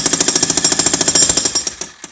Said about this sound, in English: you just want to jackhammer with it